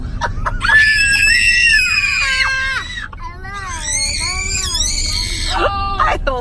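A child screams loudly and shrilly during a screaming game, sustained piercing shrieks with pitch swoops, a brief pause near the middle, then more screams close by.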